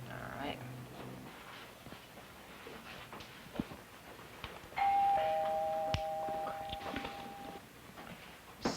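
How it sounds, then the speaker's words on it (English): A doorbell chimes in a home at about 5 seconds, a sustained ringing tone lasting a couple of seconds over quiet background clatter and faint voices. "there's the doorbell"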